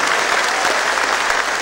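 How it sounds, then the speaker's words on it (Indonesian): An audience at a SOKSI national working meeting in 2012 applauds steadily through a speech by Aburizal Bakrie, a dense, even clapping from a large crowd heard alone. "Tepuk tangan Bapak."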